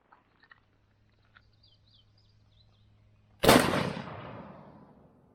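A single loud blast from a Civil War era federal gun, a sudden deep boom with a long decaying rumble after a few seconds of near silence and faint rustling.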